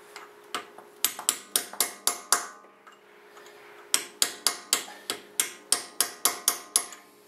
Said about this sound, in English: you take a chisel and a hammer